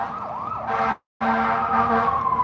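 A fire truck siren sweeps and holds a wavering tone on a Cheyenne street, moderately loud, cut by a short dropout midway before resuming with a steady tone and traffic rumble beneath, no voices.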